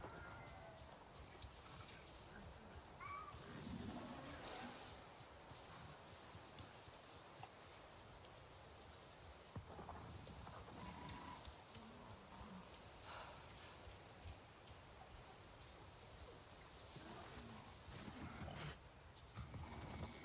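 Dire horse hooves in the game Avatar Frontiers of Pandora, a steady clip-clop of footfalls running continuously under a dense wash of ambient forest noise for the whole stretch.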